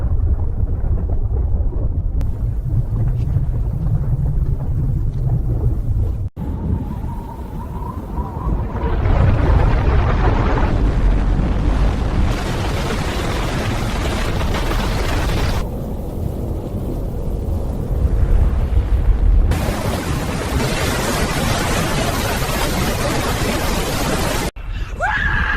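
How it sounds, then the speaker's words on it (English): A deep low rumble like continuous thunder rolls in from the distance and swells in stages, heavy and sustained with harsh bursts of noise. "A distant sound, low, deep, like continuous thunder that gradually grows louder."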